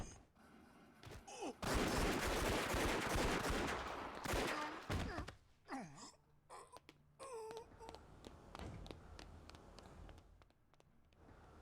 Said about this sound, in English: Oh wow, a gun.